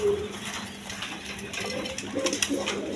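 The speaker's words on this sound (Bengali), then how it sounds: "এখানে এক পেয়ার হোয়াইট কালার রেশার কবুতর আছে।" A pair of white racing pigeons coos softly on a farm, the low calls sitting under busy background noise and some faint patter.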